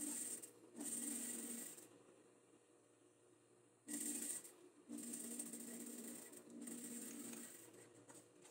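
A sewing machine stitches the side seams of an off-the-shoulder elastic blouse, running in close whirring bursts of one to three seconds separated by short quiet pauses.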